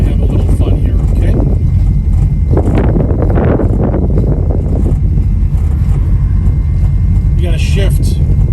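A 1972 Chevrolet Nova engine revs hard and pulls up through the gears, loud and close with rumbling low-end roar and wind buffeting, while people talk excitedly over it.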